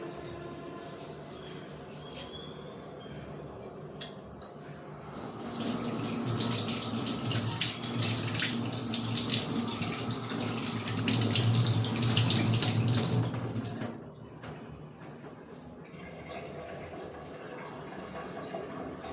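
Tap water runs steadily over a freshly cleaned, stain-treated item in a sink, a loud continuous rushing splash lasting several seconds before cutting off, with faint handling and rubbing sounds before and after.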